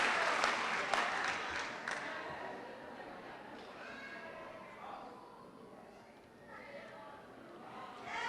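Audience clapping at a 2018 UB EOC commencement, a broad wash of applause that is strongest in the first two seconds and then tapers to a softer, steady patter with a murmuring crowd underneath.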